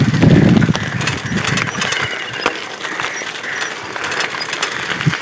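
A machine's motor runs in a rural village, giving a loud, steady droning hum with a rough mechanical rattle and a few faint clanks, with no talk over it.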